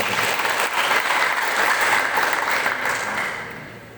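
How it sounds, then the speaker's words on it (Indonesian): Audience applause at a village official's swearing-in ceremony in Tlekung, Batu, a loud, dense wash of clapping that holds steady and then tapers off toward the end. "Tepuk tangan untuk kita"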